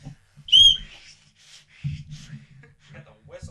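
A single sharp whistle blast sounds as a playful penalty in a podcast conversation, loud and short near the start, followed by people talking.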